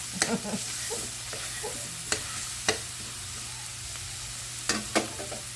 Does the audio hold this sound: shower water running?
no